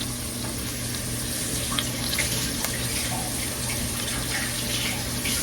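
Tap water runs steadily into a sink while garlic is washed under it, a continuous close splashing stream with faint knocks and no talking.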